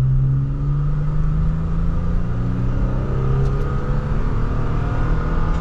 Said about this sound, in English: So as we set off now in the Tacoma, I'm going to put it into the sport mode, and from second gear, we'll give it an acceleration.